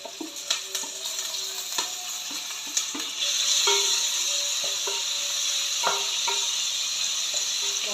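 Onion, ginger, garlic and curry leaves fry in hot oil, a steady close sizzle that swells after a few seconds, punctuated by crackling pops and light stirring clicks.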